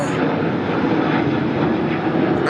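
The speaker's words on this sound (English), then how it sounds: "the plane is back. There's another one." A loud, steady roar from an airplane flying low overhead near SeaTac airport, filling the whole clip with broad engine noise and no talking.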